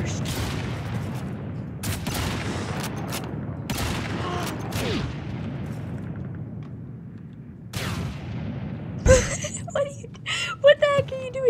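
Gunfire in the Call of Duty 2 video game, with repeated sharp shots and bursts of rifle fire over game ambience, while players talk and shout over the action.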